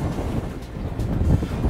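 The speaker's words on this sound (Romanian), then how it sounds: "Hai că-mi ia telefonul din mână vântul." Strong wind buffets a handheld phone's microphone, a loud, close, gusting low roar that rises and falls briefly.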